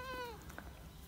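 A single bleating meow from a cat on a farm, with goats also nearby, rings out briefly and then fades into a faint outdoor background, close by but not loud.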